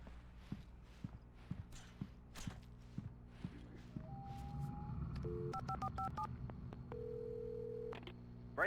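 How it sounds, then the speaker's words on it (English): In the video game Alan Wake, footsteps cross a gas station floor, then a phone handset is lifted and a few telephone keypad tones sound, followed by a steady dial or ringing tone. "I had to get inside the gas station to find a phone to call for help"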